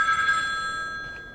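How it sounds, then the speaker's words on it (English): An old-style telephone bell rings steadily and loudly in the atamago game demo, a bright sustained metallic trill that fills the short moment alone, with no voices. "It's the phone."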